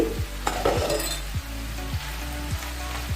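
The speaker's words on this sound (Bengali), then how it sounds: "ঢাকনাটা তুলে আমি একটু নাড়াচাড়া করে দেবো" Beans and potato curry being stirred in a pan on the stove, with a steady frying sizzle throughout and a spoon scraping the pan in about six regular strokes, with faint clinks.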